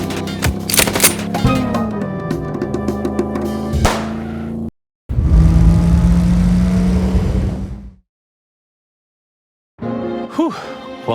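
Gunfire and machine gun bursts in a tense action scene, loud and dense in the first four seconds with sharp cracks, then a sustained rumbling burst before silence and a brief return of noise at the end.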